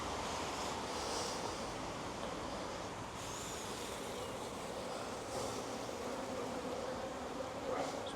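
Many honeybees buzz in a constant, droning hum close by at an open hive, steady throughout with no voices.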